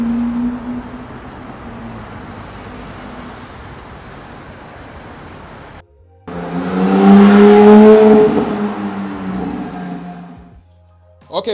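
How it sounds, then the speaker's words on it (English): Lamborghini supercars, Aventadors among them, rumble along London streets with a steady engine drone, then a louder, closer pass swells and fades, with some talk underneath. "So many Lamborghinis in London, it's ridiculous."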